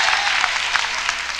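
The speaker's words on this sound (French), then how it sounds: "Pourrais-tu avoir les applaudissements avant," A brief burst of audience applause at a comedy show, dense, even clapping from a large crowd with no voices over it.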